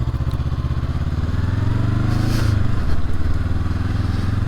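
A 2023 Honda SCL500 Scrambler riding along a hard-packed trail with loose stones, its engine droning steadily loud and close, with a brief swell in revs and light gravel crunch underneath.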